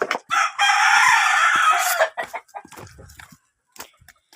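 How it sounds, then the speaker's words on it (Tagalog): A rooster crows loudly nearby, followed by softer scattered clucking from chickens. "Kukulit ng mga manok."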